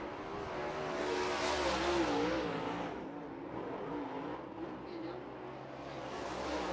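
Sport trucks run qualifying laps at Arizona Speedway, engines roaring and revving as they swell close then fade, with a second rise at the end; talk murmurs faintly beneath.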